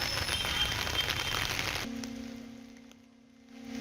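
Heavy rain falls in Jammu as a dense, loud hiss of drops on surfaces, which cuts off abruptly partway through, leaving a low steady hum.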